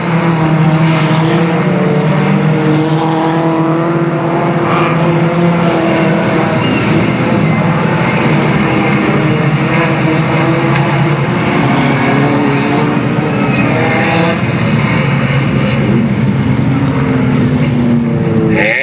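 Race cars roar around the oval at Delta Speedway in 1996, a loud continuous engine drone with rising and falling pitch as cars pass, no talk audible over it.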